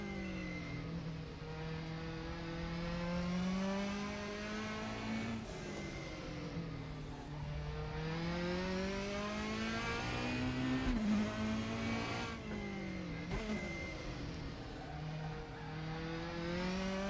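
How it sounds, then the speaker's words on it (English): An ABT TT-R race car with a rear-mounted engine of just under 500 horsepower revs toward 8500 RPM on the Nordschleife. The engine note climbs and drops in repeated loud, sustained sweeps, close by, with no voices. "revving to about 8500 RPM, producing just under 500 horsepower"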